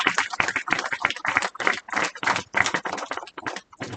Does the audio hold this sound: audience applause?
yes